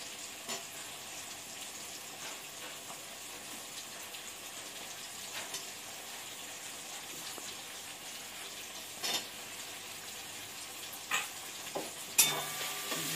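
A large capsicum goes into a pan of Punjabi-style chicken kosha and is stirred. The sizzle is steady and close, with a few sharp spatula scrapes and knocks near the end, and no one talks.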